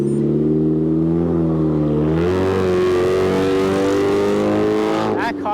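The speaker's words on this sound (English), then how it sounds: "That car is loud." A loud car accelerates past on a road beside a bike lane. Its engine note climbs in pitch, holds close and strong for several seconds, then fades as it pulls away.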